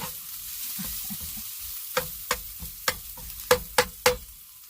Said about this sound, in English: So you just saute it.